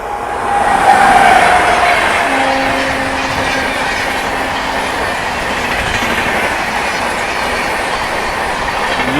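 A fast passenger train, the Guntur Intercity, roars past nearby, wheels rumbling steadily with a brief metallic squeal early on, no speech.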